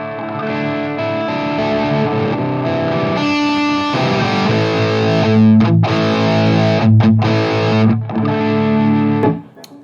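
A Schecter Banshee electric guitar through a Marshall DSL 100H amp with a boost pedal engaged plays loud, saturated distorted chords, with sustained ringing notes, sharp stops between strums and a final cut-off.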